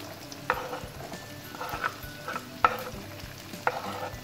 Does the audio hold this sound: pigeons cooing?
no